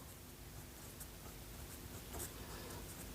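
Pen scratching on paper during a Class 10 maths geometry lesson, a faint, continuous soft scribbling close to the microphone, with no talking.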